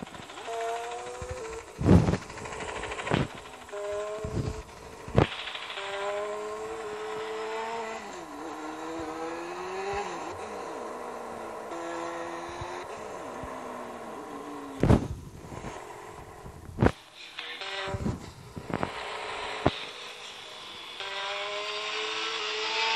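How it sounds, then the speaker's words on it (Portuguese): Engine of a Hornet motorbike in GTA San Andreas on Android, a buzzing drone that rises and falls in pitch as it revs and shifts, with several sharp loud bursts scattered throughout. "Eu vou aumentar aqui um pouquinho pra vocês ouvir o barulho da Hornet."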